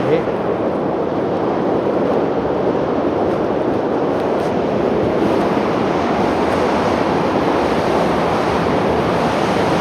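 Loud, steady rushing water roars continuously through a mountain tunnel in Interlaken, Switzerland, a dense broadband wash with an echoing, enclosed quality and no pauses.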